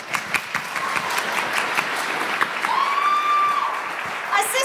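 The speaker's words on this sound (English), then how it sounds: "Yet another round of applause for Patsy Cricker and Junior." Audience applause at a high school musical production of The Mystery of Edwin Drood, sustained clapping from a theatre crowd that holds steady throughout, with a whistle rising briefly near the end.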